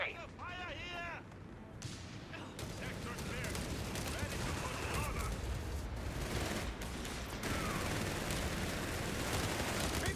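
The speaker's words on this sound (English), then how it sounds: "Riflemen opening fire on the BizCut's forces" Rifle gunfire from riflemen in the video game Company of Heroes 3, dense crackling volleys and pops over a constant battle rumble, with a voice talking over the start.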